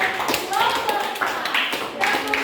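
Scattered hand claps from a group, several sharp bursts in an uneven rhythm, heard under and between people talking.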